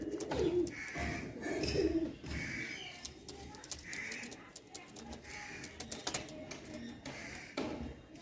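Pigeons coo in soft repeated bursts at close range among a noisy background, with occasional clicks and shuffling sounds between the calls.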